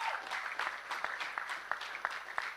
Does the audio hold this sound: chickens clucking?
no